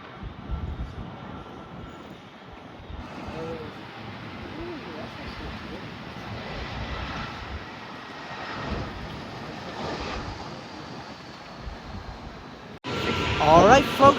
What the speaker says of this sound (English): We got American A321 lifting off.